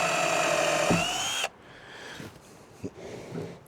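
A cordless drill whines steadily for over a second while driving screws into sawhorse wood, then cuts off, leaving light clicks and handling noise.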